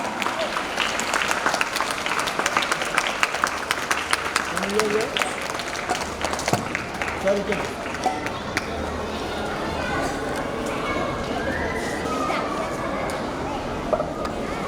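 Children and staff applaud the winners of a school singing competition at an Independence Day celebration, a steady wash of clapping with crowd chatter and footsteps throughout.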